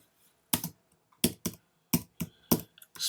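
Typing on a computer keyboard, with short bursts of clattering keystrokes in irregular clusters, close and clear against a quiet background and with no one talking.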